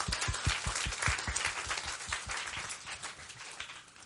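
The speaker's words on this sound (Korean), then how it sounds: "우리 함께 영광의 박수 올려드립니다." Church congregation clapping together at a Sunday worship service, a dense run of rhythmic claps in unison at first, loosening into scattered applause that tapers off.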